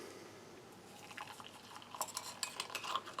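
A spoon stirring coffee mix in a mug, light clinking and scraping of metal on ceramic that grows busier toward the end, quiet and close with no talk.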